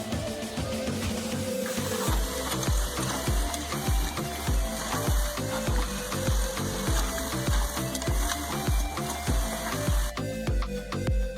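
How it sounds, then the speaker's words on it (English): Mysore dhal vada, lentil fritters, deep-frying in oil, a loud continuous sizzle under a repeating mechanical thumping rhythm close by, running without pause and with no speech. "We're going to fry it now."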